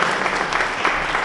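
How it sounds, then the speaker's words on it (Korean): Audience applause at an indoor ceremony, a dense, steady wash of many hands clapping without pause for just over a second, moderately loud. "큰 박수 다시 한번 부탁드릴게요"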